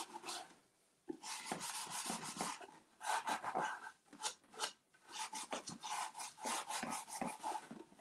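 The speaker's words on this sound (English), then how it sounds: "then I come in with my finishing pad. To rub that right in." Finishing pad rubbing finish into a wooden sideboard, a rapid raspy scrubbing in bursts of repeated strokes with short pauses, close and fairly loud with no talk.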